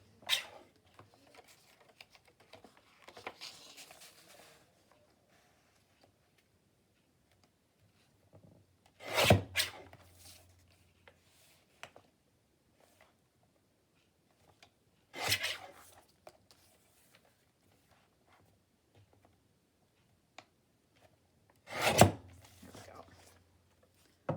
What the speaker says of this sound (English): I'm going to just use my little trimmer again.